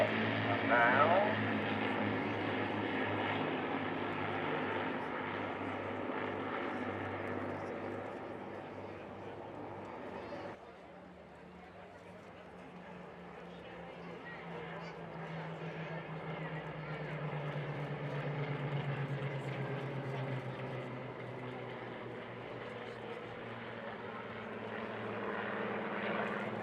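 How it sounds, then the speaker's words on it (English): A Hurricane and a Spitfire Mark 19 propeller warbird fly over a Blackpool airshow, a steady piston-engine drone that dips briefly then swells again as they pass, moderately distant, with faint crowd voices. "Behind the leading Hurricane is the Spitfire Mark 19 PM631"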